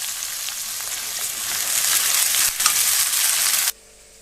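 Spices with turmeric frying in hot oil for a light chicken curry, a loud continuous sizzle with stirring scrapes that swells and then cuts off abruptly near the end.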